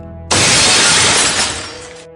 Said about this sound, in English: The window shattered.